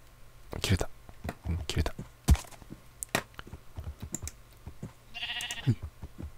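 A Minecraft sheep gives a short nasal bleat near the end, amid clicks and key taps from play, with a person talking quietly in the background.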